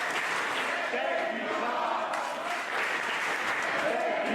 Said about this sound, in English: The crowd showing their thanks for the now former RCW champion